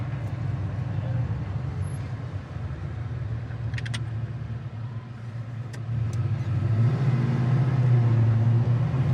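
A 1975 Mercury Comet restomod with a strong engine pulls away hard from a stop. Its low engine drone holds steady, then grows louder and deeper as it accelerates near the end, with occasional speech from inside the car.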